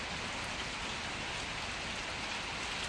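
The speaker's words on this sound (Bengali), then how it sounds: "প্রচণ্ড বৃষ্টি।" Heavy early-morning rain pours down in Srinagar, Kashmir, a dense, steady hiss of drops on surfaces with no let-up and no voices.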